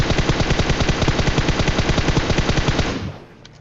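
Rapid automatic gunfire in the mobile battle royale game PUBG Mobile, a loud steady burst of evenly spaced shots lasting about three seconds before cutting off and fading.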